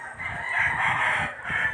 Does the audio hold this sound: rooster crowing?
yes